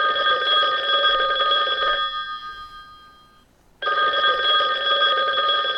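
A telephone rings during a call, two loud electronic trilling rings separated by a short silent gap, clear and close with nothing else heard.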